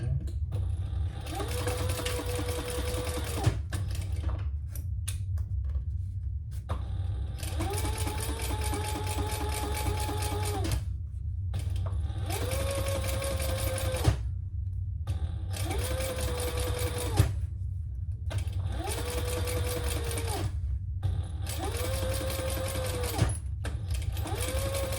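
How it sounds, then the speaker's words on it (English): Sewing machine top-stitching waterproof canvas next to a zipper on a sling crossbody bag, steady whirring runs of needle strokes that start and stop in several bursts, close and loud. "Okay, let's top stitch next to the zipper."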